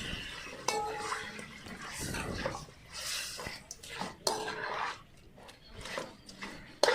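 A spoon stirs and mixes chicken with turmeric in hot oil in a pan for a country chicken gravy, scraping and clinking against the pan in uneven bursts under quiet talk.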